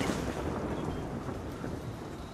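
A roaring thunderstorm rumbles on steadily, with dense low wind and rain noise filling the whole stretch at an even, moderate loudness and no voices.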